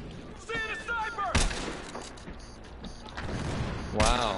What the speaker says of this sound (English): point blank with a sniper and I missed